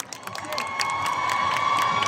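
An audience at the King Power Chinese New Year event cheers and claps for Mai Davika, who is in a Chinese dress. Scattered hand claps and crowd noise sit faint and distant, swelling slightly over a couple of seconds.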